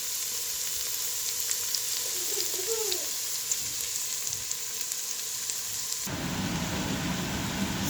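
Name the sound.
sautéing onions and green chilies in pan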